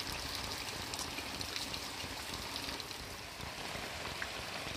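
Heavy rain pours steadily over a village during a flood, a dense, even hiss of drops striking surfaces with trickling water beneath, continuous and close with no voices.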